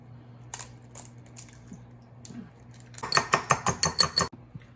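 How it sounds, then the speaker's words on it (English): An egg cracked and then beaten in a bowl for an island-style bacon and egg pastry: a few light taps, then a quick run of about eight sharp, rhythmic clinking whisk strokes against the bowl. "Crack open the egg."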